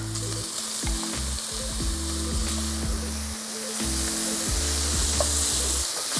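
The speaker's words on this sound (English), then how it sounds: "we're going to fry the shrimp for about 30 seconds" Shrimp and scallops fry in a hot wok with a loud, continuous sizzle, close and prominent, while rhythmic clanking strokes of a metal utensil against the wok repeat throughout.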